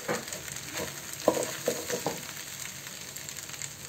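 Ground spices, among them garam masala, coriander, turmeric and chilli powder with salt, fry in hot oil for a restaurant-style bhuna khichuri, giving a steady close sizzle broken by a few sharp scrapes and knocks of stirring.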